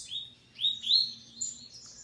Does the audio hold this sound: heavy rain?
no